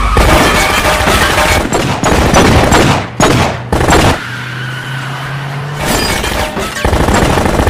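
Gunshots crack in rapid bursts during a car chase in an action film, loud and dense, with engine roar, crashes and shattering mixed in and brief quieter gaps between volleys.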